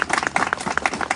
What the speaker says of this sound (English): We want to give you applause.